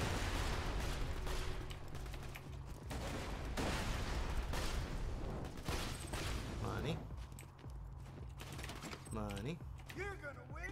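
Bursts of gunfire and a grenade blast in the shooter game Borderlands 2, rapid dense volleys filling the first seven seconds, then tapering off into scattered mechanical clicks and effects, with a voice talking over it.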